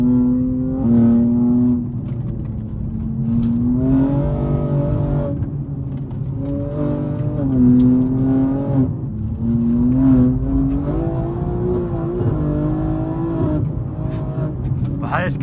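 A BMW M3's engine revs and surges as it drifts along narrow Scottish Highland roads, its pitch repeatedly climbing and dropping in strong steady waves, heard from close by.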